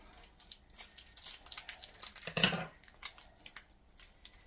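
Scissors snipping along the top line of a plastic pizza kit bag, a run of soft crinkly cuts building to one louder crackle midway, then fading snips, quiet and close.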